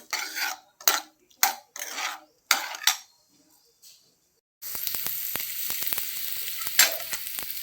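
Spices fry in a pan for a stuffed brinjal curry. Short bursts of scraping and stirring come first, then a continuous close sizzle with occasional utensil taps.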